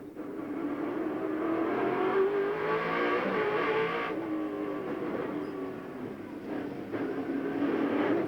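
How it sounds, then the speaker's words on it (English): Australian V8 touring cars, including a Holden Commodore, racing on the 1996 Wellington waterfront street circuit, engines roaring and shifting pitch as they accelerate and change gear, loud and continuous from onboard. "don't they sound great, these great Aussie V8s"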